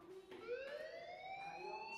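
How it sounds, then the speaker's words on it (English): Fire alarm in the video game Life is Strange, a rising electronic siren wail that climbs steadily in pitch, held and continuous at moderate loudness with no one talking over it. "do you hear that fire alarm? That means you should be outside."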